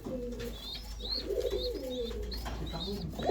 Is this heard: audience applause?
no